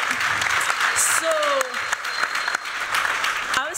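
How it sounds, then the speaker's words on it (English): Applause from a design conference audience after a panel on wellness spaces, a full, steady burst of clapping with a few voices and whoops cutting through. "Can we get a round of applause?"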